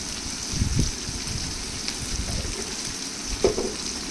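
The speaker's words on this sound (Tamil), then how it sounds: "நல்லா வதக்கி விட்டுட்டே இருங்க" Drumstick leaves sautéing in a pan with turmeric, coriander and chili powder, a soft continuous sizzle with faint scraping and a couple of light utensil taps.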